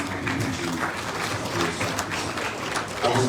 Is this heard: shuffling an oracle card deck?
no